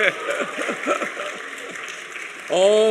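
Congregation applause at a church anniversary service, fairly soft clapping under a speaking voice, with the voice growing louder toward the end.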